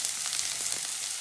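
Sauce with oregano cooking in a pan gives off a steady, close hiss of frying, with faint stirring scrapes layered over the continuous sizzle.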